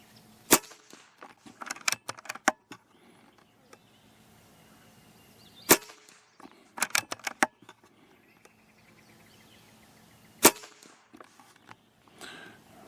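A .25 caliber air rifle fires at steel targets, each shot landing as a sharp metallic clang or ping. Single hits and quick clusters are spaced out over quiet gaps, with no voices.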